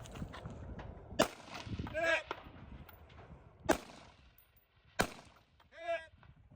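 Rifle shots fired at targets 300 away during a practical rifle match with a KP-15 rifle, three sharp cracks spaced a couple of seconds apart, with clattering noise and brief voices in between.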